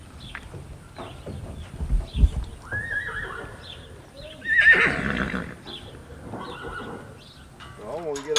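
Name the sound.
horse neighing and hooves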